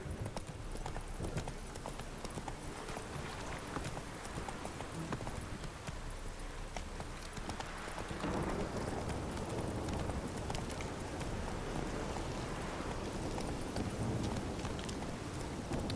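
Roach the horse gallops in The Witcher 3 as a rapid, steady drumming of hooves, close and continuous, over a dense ground-level rumble that swells slightly in the second half.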